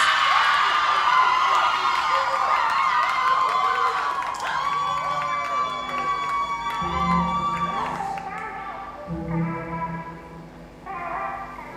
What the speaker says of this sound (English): They've been cheering all evening, and I think they're going to cheer some more